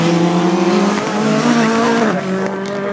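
Four-wheel drive rally car at a seafront promenade rally in New Brighton, engine revving hard and loud as it is snapped sideways round a hairpin, pitch falling as it shifts near the end.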